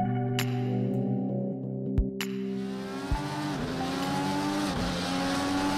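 An IndyCar races around Red Bull Ring in Project Cars 2, its engine a loud, steady high-pitched drone with gear-shift pitch drops and brief tyre squeal, no talk over it.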